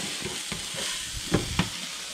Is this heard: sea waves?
no